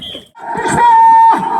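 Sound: bull

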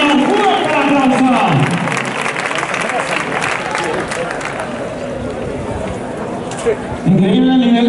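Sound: audience applause at Tudela horse competition

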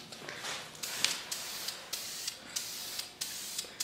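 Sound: spray painting cafe racer motorcycle frame with VHT roll bar paint

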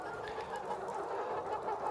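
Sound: chickens clucking, Lohman Sandy and Atak-S laying hens

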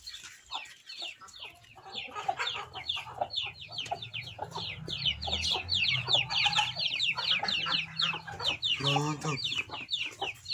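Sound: hen and chicks clucking in a chicken coop

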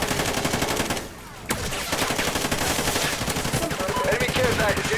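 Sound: gunfire in the video game Call of Duty: Ghosts

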